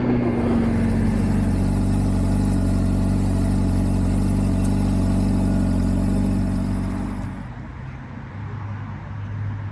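A 2024 Honda CBR600RR superbike engine running on the road in bad weather, a loud, continuous mid-pitched drone that eases off and drops in level near the end, with no talk.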